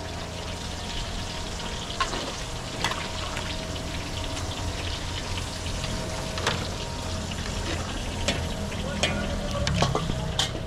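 Garlic and onion sauté in a pan for wedding catering, a steady close sizzle and crackle with scattered scraping clicks as the food is stirred, continuous throughout.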